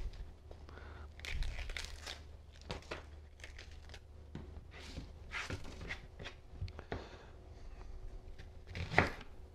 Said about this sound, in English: I'm going to cut up one medium of an onion